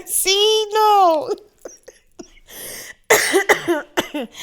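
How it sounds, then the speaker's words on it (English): A person coughs loudly in a few harsh bursts, mixed with throaty vocal sounds and a brief voice between fits, close to the microphone in an indoor podcast setting. "I can't laugh because it's going to make me cough"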